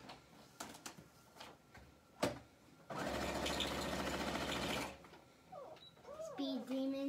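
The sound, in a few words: sewing machine stitching a zigzag on a pillowcase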